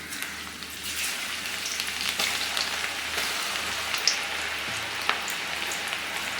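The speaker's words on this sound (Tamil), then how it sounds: "எண்ணெய் நல்லா காஞ்சிட்டு இப்போ நம்ம கொஞ்சம் கொஞ்சமாக மாவு போட்டு எடுக்க வேண்டியதான்." Onion pakoda batter frying in hot oil on medium flame, a steady close crackling sizzle with scattered pops and bubbling, heard alone without any talking.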